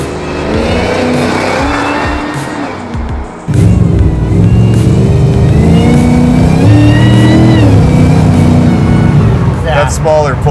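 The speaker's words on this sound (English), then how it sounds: "That smaller pulley kit sure makes a nice sound" Supercharged LT4 V8 in a 1969 Camaro fitted with a smaller supercharger pulley roars hard and close, with a short dip before surging revs and tire squeal under a speaking voice.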